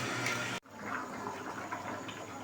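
Water gushes steadily into a cooking pot for boiling potatoes, a continuous rushing pour after a brief cut at the start, close and fairly loud.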